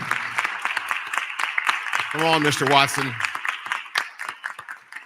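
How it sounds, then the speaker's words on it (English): Audience applause at a debate event fills the room while someone speaks over it, with dense clapping steady throughout and a brief cheer partway through. "Y'all clap this guy up."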